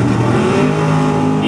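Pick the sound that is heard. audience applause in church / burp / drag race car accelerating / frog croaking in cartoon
drag race car accelerating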